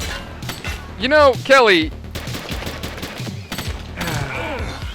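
Gunshots ring out in the police video game The Precinct in a short, loud burst under excited shouting, with brief pops scattered through the rest of the moment.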